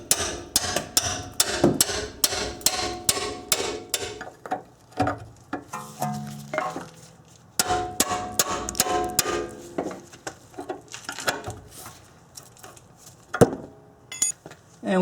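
A hammer whacks a rear strut loose with sharp metallic strikes, first in a fast run of about a dozen blows, then in scattered, irregular hits with pauses, close and loud.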